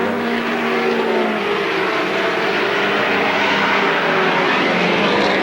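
Stock cars in a 1987 feature race at Salem Speedway roar past in a loud, continuous engine drone with shifting pitch as the pack circles the track.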